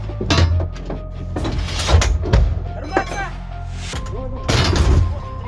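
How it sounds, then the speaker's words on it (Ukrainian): Loud, booming blasts from a large artillery gun in combat, with several sharp bursts and echoing rumbles over a steady low mechanical drone. "Я навідник на машині. Стріляю, стріляю чітко в ціль."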